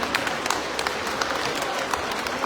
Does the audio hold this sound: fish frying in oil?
no